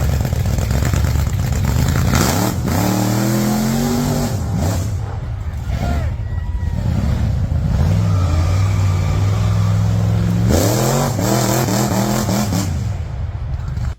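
A 1940 Plymouth Business Coupe gasser with a 454 big block Chevy V8, Pro Comp heads and a 671 blower, loud and close, revving up in several rising bursts between rough, throbbing idle stretches.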